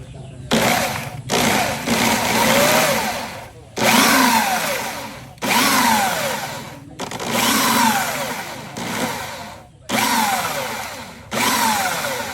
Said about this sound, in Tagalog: So ganito lang siya, grinder.